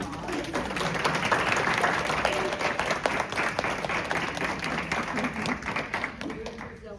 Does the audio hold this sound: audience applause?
yes